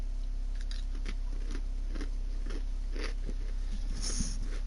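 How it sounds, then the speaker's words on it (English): Someone chews food near a microphone, with repeated soft crunchy bites and mouth clicks in an irregular rhythm over a low steady background hum. "Y'all can listen to my chewing, who cares?"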